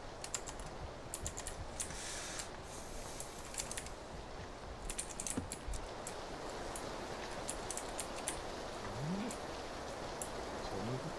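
Steady in-game rain in PUBG patters across a surface while keyboard keys clack intermittently up close; the rainfall hiss stays constant beneath the tapping.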